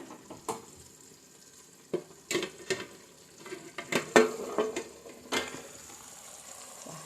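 Onions sizzle softly in a hot pan as a spatula stirs them, giving scattered scrapes and taps over a low frying hiss. The sound is close, and no one speaks.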